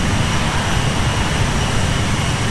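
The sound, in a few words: Embraer 170 jet taking off in Flight Simulator X, a video game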